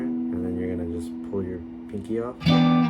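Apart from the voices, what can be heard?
No distinct noise like a dog, phone or traffic.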